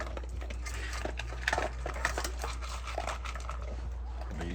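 Two American bully dogs, a mother and her son, eat dog chow and sports mix from bowls, with close, steady crunching, lapping and bowl clatter continuing for several seconds.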